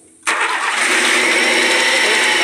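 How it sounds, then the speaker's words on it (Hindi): After a brief quiet moment, a car whose ground wire has just been repaired starts abruptly and settles into a loud, steady engine run that fills the rest of the clip with no voices. "गाड़ी स्टार्ट हो गया।"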